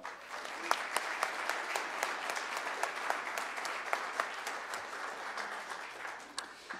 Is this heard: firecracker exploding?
no